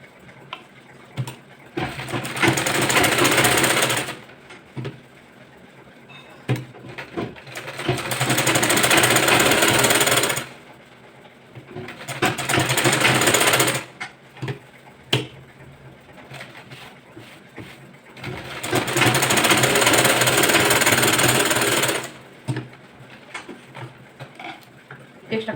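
An electric sewing machine stitches the side seam of a boat-neck blouse fabric in three long, loud, whirring runs separated by pauses filled with small clicks and handling noises.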